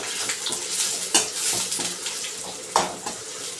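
A spoon works through black-eyed pea curry in a pan, giving a few sharp clinks and scrapes against the metal over a low, wet background hiss, close and sparse.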